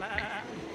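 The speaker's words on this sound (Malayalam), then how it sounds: "വേറെ ആടുകൾ പലതരം ആടുകൾ" A single short goat bleat at a pet exhibition in Kannur, close and fairly loud, with steady background noise around it.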